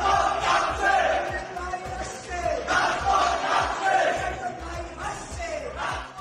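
Crowd of students chanting slogans in Madhu's Canteen at a university protest, loud rhythmic massed voices rising and falling in repeated waves, close and continuous throughout.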